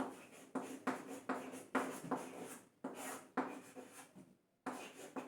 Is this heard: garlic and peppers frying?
no